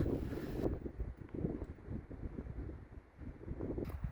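Wind buffets the microphone with a low, blustery rumble that rises and falls steadily, no voices present, in extreme fog and wind on a mountain ridge.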